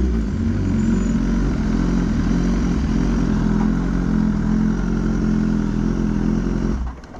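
A customized 2019 BMW S1000 motorcycle engine runs loud and close with a steady, throaty rumble and slight clatter, dropping away just before the end.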